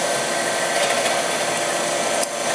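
A Marvel 2150 tilt-frame automatic bandsaw grinds steadily through small metal tubing, a harsh continuous whine and rasp that holds close and loud before easing slightly at the end.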